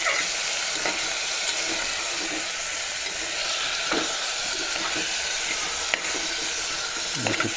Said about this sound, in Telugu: ఇందులోకి అయితే ఈ చికెన్ అయితే వేసేస్తాం.